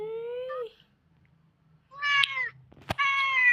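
A cat meows three times close by, drawn-out and clear, with short pauses between calls and a sharp click near the end.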